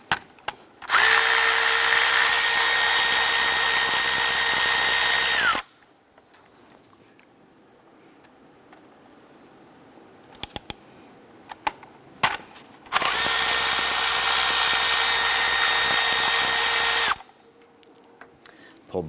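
A power drill loosens two 10mm bolts on the fuel rail of a 2007-2012 Nissan Versa, giving two loud, sustained whirring bursts separated by a quiet pause with faint clicks and handling sounds.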